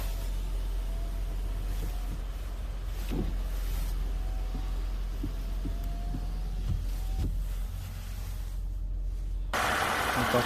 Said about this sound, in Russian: Стекла отпускается, поднимается автоматом безо всяких проблем.